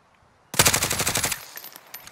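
Rapid automatic gunfire from a multiplayer video game shooter, a loud burst of closely spaced shots starting abruptly and running about a second before trailing off into fainter reports.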